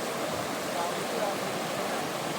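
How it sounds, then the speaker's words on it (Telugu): Water pouring down at Valasa Waterfalls makes a steady, even rush of noise with no breaks, with no voices heard over the roar. "వలస వాటర్ ఫాల్స్కి వచ్చాం"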